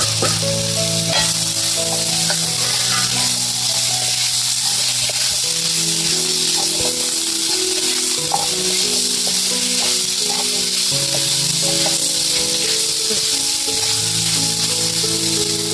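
Cashews fry in a pan of roasted masala for a wet cashew and egg curry, giving a steady, loud sizzle and hiss that runs throughout under a background of music.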